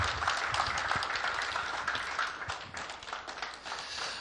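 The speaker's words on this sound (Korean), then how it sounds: "우리 박수로" A colloquium audience claps in a soft, steady patter of many hands, fairly distant and even throughout, with no talking over it.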